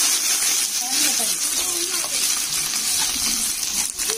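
Cinnamon and cloves frying in hot oil and ghee for a chicken biryani over a wood fire, a steady crackling sizzle with faint metallic clinks, while a person talks over it.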